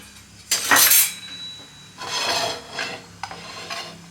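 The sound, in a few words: gram flour (besan) being lightly fried in a pan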